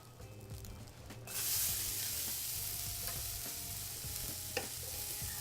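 Onions hit a hot pan still coated with fish drippings and spices, bursting into a loud, steady sizzle that holds throughout, with a few faint scrapes and clinks of stirring.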